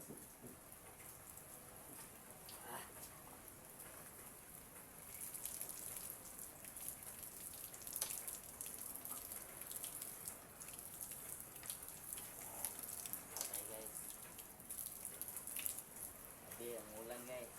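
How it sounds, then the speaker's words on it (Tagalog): Steady rain falling while walking home on a wet commute, a soft continuous patter with scattered drops, faint and even throughout with a slight rise midway. "Hindi talaga hinto yung ulan."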